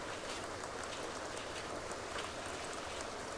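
Rain in The Sims 2 falls as a constant, even hiss of drops with no pauses, fairly quiet and uninterrupted by any voices.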